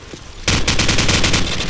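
Rapid automatic gunfire in the video game Call of Duty erupts suddenly and continues in a loud, steady burst of repeated shots, close and dominant.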